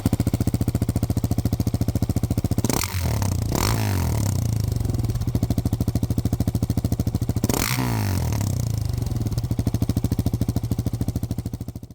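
A 2022 KTM 690 SMC R supermoto's single-cylinder engine runs loud and close through its exhaust, a steady throbbing idle broken by sharp revs near 3 and 8 seconds.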